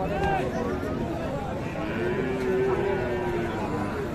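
Large beef bulls at a cattle market in Chattogram low repeatedly, several overlapping moos close and far, with a crowd murmuring underneath.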